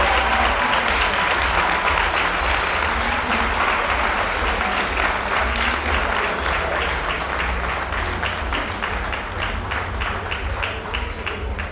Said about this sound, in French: Alors, un bon applaudissement,